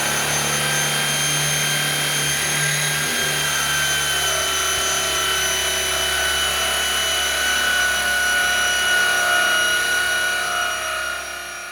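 A power drill bores a hole for a deadbolt lock in a door, a steady, loud whining drone that holds evenly for about eleven seconds before easing off slightly at the end, with no talk.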